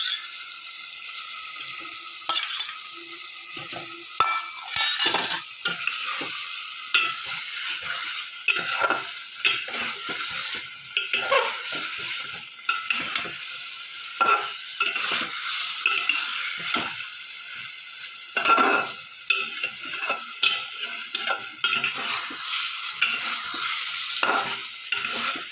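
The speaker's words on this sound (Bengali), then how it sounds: "মশলাটা ভালো করে কষিয়ে নেবো" Fried eggs being stirred into a spice masala sautéing in oil for a Bihari-style egg curry, with a steady sizzle broken by frequent scraping stirs of the spoon against the pan, close and fairly loud, with no voices.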